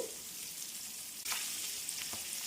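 Cumin, mustard and fenugreek seeds fry in oil for a spicy carrot pickle, giving an even, close sizzle with a couple of brief popping crackles and soft stirring scrapes.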